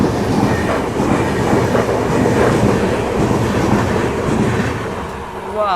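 The new Amrit Bharat Express running fast on rails, a loud, steady close rumble with rhythmic wheel clatter that fades slightly toward the end.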